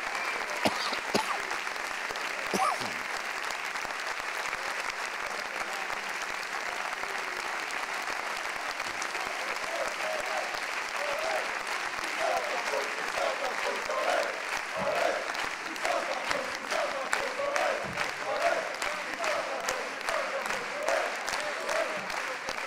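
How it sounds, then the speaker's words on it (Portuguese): An audience at the 2016 Danças de S.Nicolau dance performance applauds steadily for a long stretch, a dense, moderately distant wash of clapping with a few louder claps and faint crowd noise. "o aplauso também caloroso da vossa parte"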